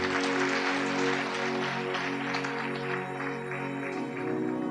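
A church congregation at a Punjabi sermon breaks into loud, sustained clapping, a dense wash of applause holding steady for several seconds with no voices over it.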